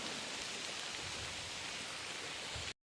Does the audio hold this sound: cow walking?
no